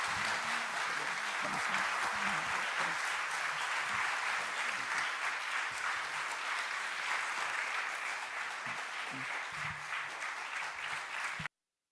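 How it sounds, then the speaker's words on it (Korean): A church congregation applauds during a Wednesday evening worship service, producing a long, full, even wash of clapping that continues for about eleven seconds before cutting off abruptly. "우리 박수 한번 날까요?"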